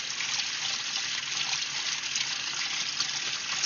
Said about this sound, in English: I can hear the water struggling on the other end